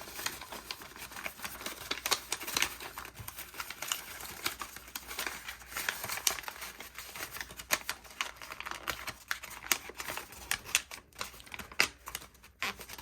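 Paper being folded and creased into a Victorian puzzle purse valentine, a steady, close run of soft crinkling and scraping that continues throughout at low volume.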